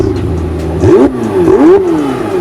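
A McLaren 720S Spider's engine revs close by, loud and throaty. The pitch climbs and falls in two quick sweeps over a steady idle rumble, and no one speaks.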